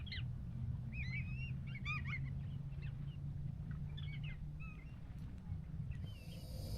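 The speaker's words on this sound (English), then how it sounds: "Look at all those birds." Birds calling in the morning at a kayak campsite, with scattered goose-like honks and squawks at moderate distance over a low steady rumble of wind or water.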